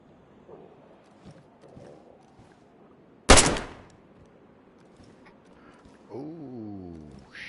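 A single loud, sharp unsilenced gunshot from the video game DayZ, cracking out once mid-clip over a quiet background, with a brief descending tone afterward.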